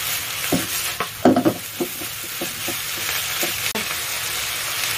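Bean vermicelli being stir-fried in a wok, with a steady sizzle under repeated scraping and clacking strokes of a spatula, loud and close, with no voices.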